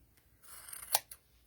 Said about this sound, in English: you just take your scissors and hold them across like that and just trim it